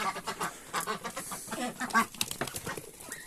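Small ducks on a farm, among them a lavender-coloured duckling, give repeated quacks and peeps, close and fairly loud in quick irregular bursts with no talk.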